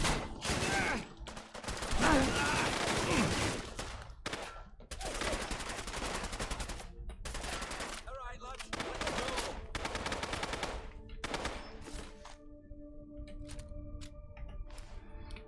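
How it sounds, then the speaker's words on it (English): A double-barrel shotgun fires in the video game Fallout: London amid heavy, loud gunfire in long dense bursts, with brief gaps, before the shooting tapers off into quieter game ambience. "Double barrel shotgun."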